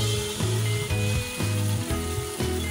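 Rice pav batter sizzles in an oiled pan, a steady frying hiss carrying a repeated rhythmic clicking pattern, close and continuous.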